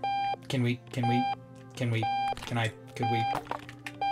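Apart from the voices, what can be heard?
alarm clock ringing in the video game Octodad: Dadliest Catch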